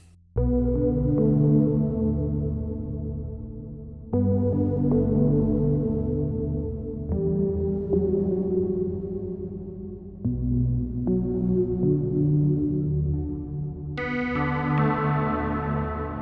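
A Korg Minilogue XD synthesizer plays a series of sustained chords, each swelling into a deep, lingering reverb tail with a low harmonic humming underneath.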